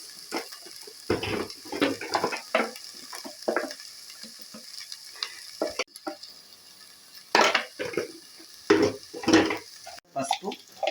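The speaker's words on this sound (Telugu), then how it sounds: "అల్లం వెల్లుల్లి పేస్ట్ వేసిన తర్వాత బాగా కలుపుకోవాలి." Ginger garlic paste being stirred in a pan with fried onions and green chillies: steady sizzling and frying with repeated scraping and stirring clatter, close and fairly loud, with no talking.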